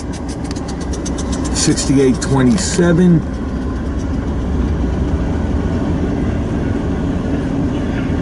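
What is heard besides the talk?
freight train passing with mid-train DPU locomotive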